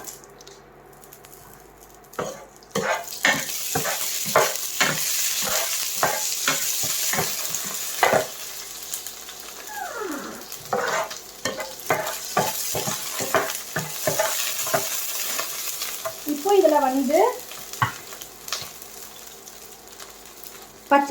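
Fennel seeds, cumin and curry leaves fry in a pan for aviyal, with a steady sizzle under repeated scraping and stirring strokes, close and moderately loud.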